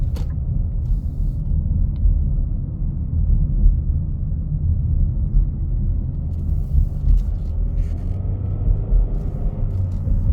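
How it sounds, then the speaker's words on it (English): Low, steady engine rumble from inside a 2021 Nissan Rogue SL AWD accelerating at full throttle, a continuous dense drone with road noise and no talking. "We can try to floor it right around this corner."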